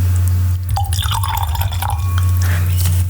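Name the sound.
pouring wine into a glass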